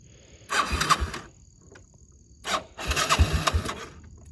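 A warm Yamaha Moto 4 quad, recently repaired after a zero-compression bent valve, cranks and fires quickly in two separate bursts: a short engine catch and rev, a pause, then a second start that runs briefly before cutting off, loud and close.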